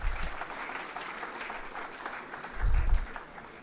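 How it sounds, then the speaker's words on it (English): Audience applause at a conference session, a sustained even patter of many hands clapping with a low thump near the end. "Please give a huge round of applause for sir"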